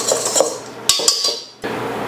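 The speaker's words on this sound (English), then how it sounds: "Now we're just going to give these dry ingredients a whisk to combine to ensure even baking." Dry ingredients are whisked in a bowl, giving close metallic clinks and scraping taps against the bowl, with a few sharp knocks before a brief pause.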